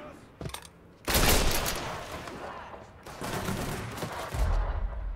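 Rifle gunfire in the video game Mafia 3, loud close bursts of shots that crack in around one second and again later, packed into dense, roaring stretches with a short lull between them.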